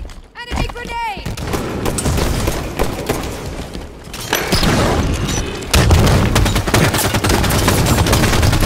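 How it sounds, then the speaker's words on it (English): Dense gunfire and booming blasts from Halo 5 arena multiplayer play continuously, with a loud explosion from an enemy grenade among the heavy, close combat noise, and game voice callouts are heard. "Enemy grenade."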